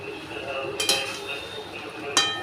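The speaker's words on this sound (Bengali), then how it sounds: "নেড়ে নেড়ে তলায় যাতে ধরে না যায় তার জন্য এই খুন্তিটা নাড়ানো চালিয়ে যেতে হবে" A metal spatula scrapes and clinks against a pan while raw mango pickle is stirred, two sharper clinks standing out over a steady low scraping hiss close by.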